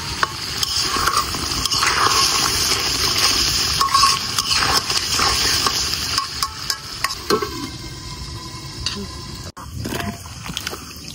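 Salted hilsa curry being stirred and fried in a pan, a steady broadband sizzle with scraping stir strokes throughout, close and fairly loud, no talking.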